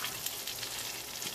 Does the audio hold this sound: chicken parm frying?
yes